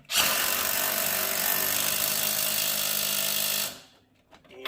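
An impact wrench tightens the bottom bolt of a Monroe air shock on a Chevy S10 in one loud, close, rattling burst of about three and a half seconds, then stops abruptly.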